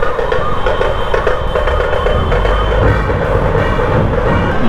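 An ambulance siren wails continuously over loud, rumbling road traffic noise, close and steady throughout.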